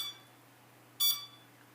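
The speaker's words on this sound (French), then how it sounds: "Ça bip, il est en train de faire sa mise à jour." A single short electronic beep sounds once, sharp and high-pitched, over a faint steady hum, from a Xiaomi Mi Drone camera gimbal during a firmware update.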